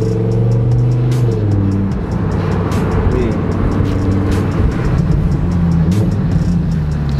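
A Lamborghini Huracan on a snowy road gives a loud, close engine drone that gradually rises in pitch as it accelerates, with a steady, strong harmonic roar and faint voices in the cabin.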